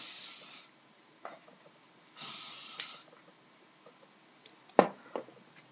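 L'Oreal Paris Elnett Satin hairspray sprayed in two sustained hissing bursts about a second each, close by, followed by faint handling sounds and a sharp click.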